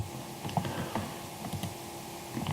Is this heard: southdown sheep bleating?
no